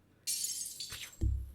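Glass shattering as a sound effect in the video game Starstruck, a sudden bright crash with tinkling fragments, then a low thud at the end, with no talk.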